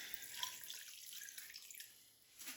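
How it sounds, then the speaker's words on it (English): Water pours steadily from a measuring cup into a pot of bean soup ingredients, a soft continuous splashing and trickling heard close but quietly, with no talking. "my dad says to add enough water about 1 inch above the ingredients"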